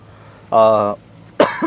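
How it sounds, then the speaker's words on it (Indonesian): A single harsh cough bursts out, followed after a short pause by a second rougher cough or throat clear, close to the listener. "batuk."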